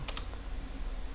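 A few quick computer keyboard keystrokes click close by at the start, then only a steady room hum follows.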